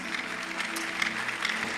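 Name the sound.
church audience applause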